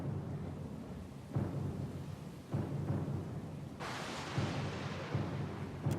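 Deep rolling thunder rumbles through a storm at sea in the game Pillars of Eternity II: Deadfire, with several heavy low swells and a brighter crack near the end, steady and fairly loud with no voices.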